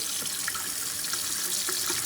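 Cold water pours steadily from a kitchen tap over hot potatoes in a sink, giving a continuous close splashing rush with no talk.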